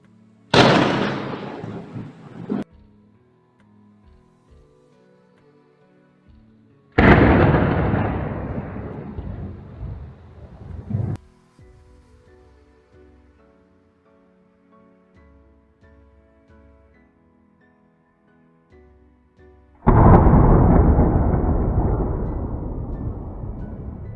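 Three separate violent cracks of lightning and thunder in Mumbai, India, each a sudden loud burst that rumbles and decays over a few seconds, with quieter gaps between them.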